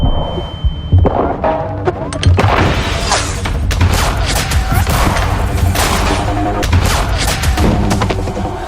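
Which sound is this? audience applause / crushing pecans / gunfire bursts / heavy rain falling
gunfire bursts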